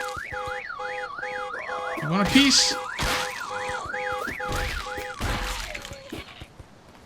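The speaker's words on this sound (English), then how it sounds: "Just set up a car alarm and stand by the car for a while." A video game car alarm wails in a steady rising and falling cycle for several seconds, with a few loud thuds and a short voice partway through, then fades toward the end.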